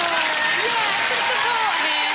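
Studio audience applauding a game show contestant, a dense steady wash of clapping and crowd noise throughout with some cheering voices mixed in.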